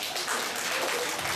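An audience claps to welcome a drum king onstage at a Chinese war-drum troupe's celebration banquet in Chile, producing a dense, steady wash of applause throughout a short burst.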